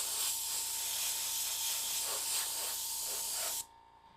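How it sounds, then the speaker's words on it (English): An airbrush sprays paint onto a miniature figure in a steady, close, continuous hiss that lasts several seconds and then cuts off abruptly, leaving quiet. "I'm going to be doing it with the airbrush."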